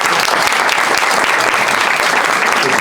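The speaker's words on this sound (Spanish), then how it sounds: "y pido un fuerte aplauso" An audience at a tango festival in Spain claps steadily in a dense, sustained burst of applause, loud and close throughout.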